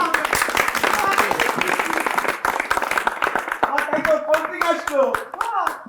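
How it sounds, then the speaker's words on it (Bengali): Hands clapping in a lively rhythm during a festive family scene, fast steady claps up close that thin out into scattered claps while voices and children chatter over them. "হাততালি হাততালি হাততালি।"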